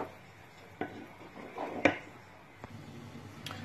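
A utensil stirs crushed tomato in a cooking pot for a meat lasagne, giving a few faint, scattered knocks and soft scrapes against the pot in a quiet kitchen.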